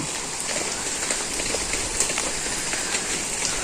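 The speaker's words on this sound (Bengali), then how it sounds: "বৃষ্টি তো হালকা পাতলা" Steady light rain patters on a surface, a soft continuous hiss with faint scattered drops, no voices.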